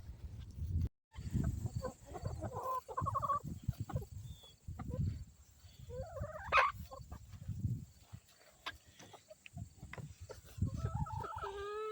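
Chickens in a coop during egg gathering, with clucking and fowl calls scattered through continuous rustling and handling noise; a sharp squawk rises midway, and no one speaks.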